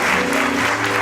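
Audience applause for Madame Jefferson at an evening improv theatre festival show, a short steady wash of many hands clapping, loud and close.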